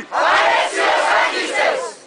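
A crowd of schoolchildren at a morning assembly shouts a cheer in unison, three loud, sustained collective bursts close by with brief dips between them.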